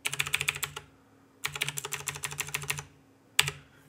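Keys clatter on a Commodore 64 keyboard in two long runs of quick typing, then one brief flurry at the end, close by and crisp.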